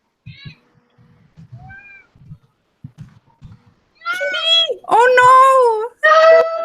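A pet cat meows indoors, several drawn-out, loud, close cries following a few quieter sounds and faint talk.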